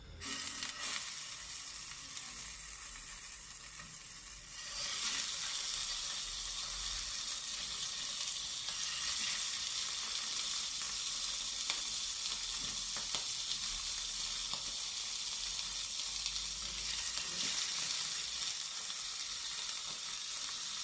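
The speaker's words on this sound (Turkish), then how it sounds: "Şimdi balığımızın şu deri kısmını öncelikle tavamıza koyacağız." Steady, loud sizzling of salmon skin frying in a hot pan, a continuous hiss that swells after a few seconds with faint crackles throughout.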